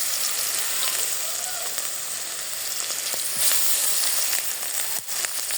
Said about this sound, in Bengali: মশলাটা ভালো করে কষিয়ে নেব মশলা আমার কষানো হয়ে গেছে